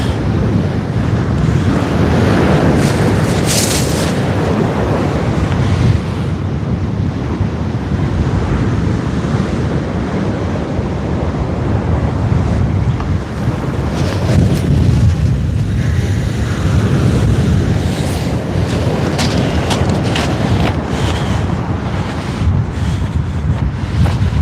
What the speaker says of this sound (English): So it's getting windier.